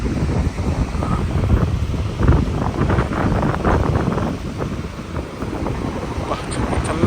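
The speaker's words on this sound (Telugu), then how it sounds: "మంచి గాలి వస్తుంది. చాలాసేపు కూర్చోవచ్చు." Breeze buffets the microphone at the Vagator viewpoint in Goa, a steady low wind rumble with gusty swells throughout, while a person talks quietly over it.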